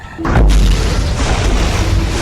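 A naval mine goes off in a Roblox submarine game: one loud, deep boom that sets in abruptly and then rolls on as a sustained low rumble to the end.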